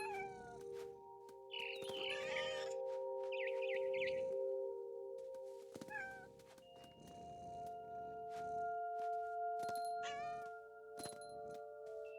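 Cat meowing in the video game What Remains of Edith Finch, several drawn-out meows and caterwauls close up over sustained tonal background music, with a few chirpy bird-like calls.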